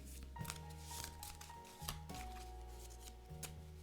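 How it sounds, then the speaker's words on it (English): Playing cards being shuffled by hand at a tabletop game session of Cthulhu: Death May Die, a few quick riffling bursts over a steady background of music. "Gotta shuffle these before I forget it."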